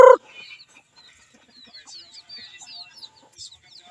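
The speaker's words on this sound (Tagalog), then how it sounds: "Doon pa yung mga manok doon banda, oh." Chickens in a backyard garden cluck and chirp faintly at a distance, with a brief louder thump at the very start.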